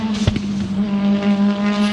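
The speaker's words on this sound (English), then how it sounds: "Nice fire-breathing car" A race car at Lime Rock Park during a GRIDLIFE event roars close by with a steady droning engine note, a sharp crack and a brief tire chirp near the start.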